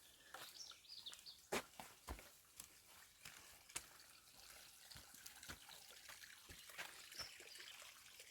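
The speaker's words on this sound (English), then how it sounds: "trickling of water and bird song." Water trickles and drips softly from a village fountain in irregular splashes, with faint birdsong chirping in the background, all quiet and close.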